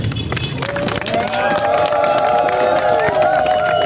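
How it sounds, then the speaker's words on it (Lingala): A crowd at a public gathering honouring the Congolese armed forces breaks into loud, sustained cheering and clapping that swells and holds, with a rising musical tone running through the din. "je voudrais vraiment que vous puissiez applaudir pour lui"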